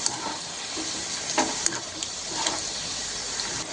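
Banana chips frying in hot oil make a steady, dense crackling hiss throughout, with a few louder pops and faint stirring scrapes, and no talk.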